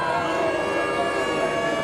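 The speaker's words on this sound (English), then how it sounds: "Well, the crowd don't like it." Crowd at a drizzly England versus New Zealand Test cricket match in 2013 gives a steady, broad murmur of disapproval, a continuous wash of many distant voices without breaks.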